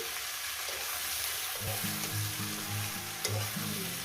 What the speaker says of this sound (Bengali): মিনিমাম এক থেকে দেড় মিনিট এই চচ্চড়িটাকে আমি মশলার সঙ্গে কষিয়ে নেব